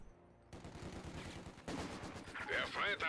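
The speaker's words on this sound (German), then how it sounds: "Hier wird rumgeballert." Gunfire crackles in Company of Heroes 2 as a quiet lull gives way to dense overlapping bursts of rifle and machine-gun fire, with sharp whizzing effects near the end.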